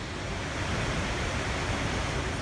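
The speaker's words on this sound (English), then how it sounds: "It is a massive waterfall, one of the biggest ones in Hawaii" A massive waterfall on Big Island, Hawaii roars in a loud, dense, unbroken rush of falling water that fills the whole clip without any voices.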